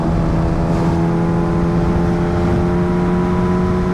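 A Kawasaki Ninja H2R supercharged motorcycle engine idles and revs gently on a cold day, a steady loud drone with strong harmonic hum holding nearly constant throughout, close by with no talking.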